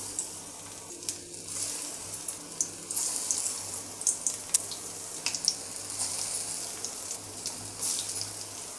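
Soya bean gola kebabs frying in hot oil on a medium flame, a steady close hiss of sizzling with small crackles and pops as pieces go in one by one, no talking.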